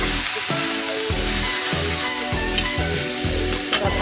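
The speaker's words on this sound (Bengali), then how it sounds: "ভালো করে এটা ভাজা করতে হবে, লেড়ে লাল লাল হয়ে যাবে" Egg toast frying in a pan for a home-cooked Bengali meal, a loud steady sizzle running throughout with occasional scraping and clinks of a utensil, no talking.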